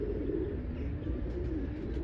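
Male pigeon coos close by in low, repeated rolling calls that run continuously, with a soft steady background and no talk over it.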